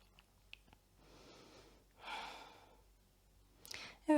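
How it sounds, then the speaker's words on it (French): Slow, deep breathing in yoga mountain pose, with soft inhales and longer, audible exhales repeated a few times, close and quiet. "Prenez quelques respirations."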